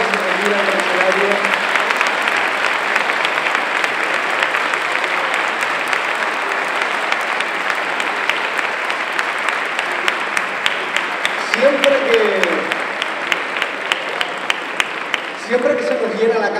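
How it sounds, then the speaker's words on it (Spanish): Sustained audience applause fills the hall for the Sociedad Musical de la Villa de Ingenio, a municipal band performing at a band gathering in Guía in April 2015, a dense steady wash of clapping from a large crowd. "Un aplauso de nuevo para ellos."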